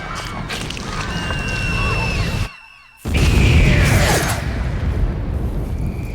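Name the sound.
explosion of tranquilized enemy in video game Metal Gear Solid 3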